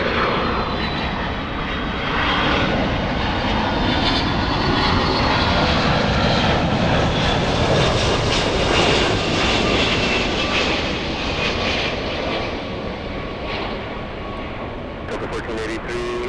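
A Boeing 757 airliner coming in to land at LAX, its loud, steady engine roar swelling and holding for the whole stretch before easing slightly near the end, with faint talk beneath.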